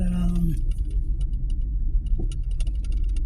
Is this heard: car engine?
yes